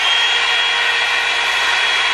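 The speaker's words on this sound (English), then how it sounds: "So the Revlon on high sounds like this." Revlon One-Step hair dryer and volumizer running on high setting, a steady loud whooshing motor and airflow hiss held continuously without change, close to the listener.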